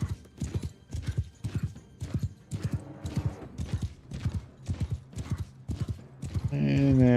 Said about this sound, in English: Double forward to kick your horse into a gallop.